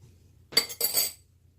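Two quick clinks of a utensil against a glass casserole dish as food for plant-based enchiladas is spooned into the bottom, close and fairly soft, with a faint low hum underneath.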